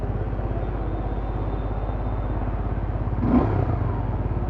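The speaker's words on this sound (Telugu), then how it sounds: "సో స్పోర్టీ ఎగ్జాస్ట్ నోట్ వస్తుంది మీకు." A Suzuki Gixxer SF250 motorcycle idles with a steady pulsing exhaust thump, then gives one short throttle blip that swells the sporty note briefly before it settles back to idle.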